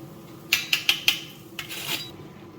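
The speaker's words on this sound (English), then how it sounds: "We're going to add that to the pan and give it a bit of a stir." A metal utensil knocks several times against a hot pan as grated ginger is stirred in, four quick clinks then a few scraping strokes, close and moderately loud with no talk.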